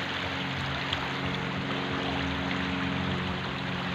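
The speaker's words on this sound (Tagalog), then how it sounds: "Ilog to, malalim." Deep river water flows in a steady, broad rushing wash, moderately quiet and continuous, with no voices.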